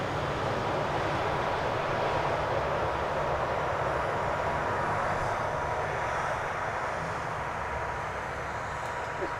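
A 12-year-old Embraer 190 City Hopper at Manchester Airport gives off a steady, broad jet-engine roar at moderate distance, constant throughout without clear peaks.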